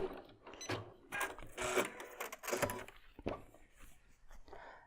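A sewing machine stitches quilt fabric for a star quilt block in quick, uneven mechanical runs and clicks, moderately close, with no talking.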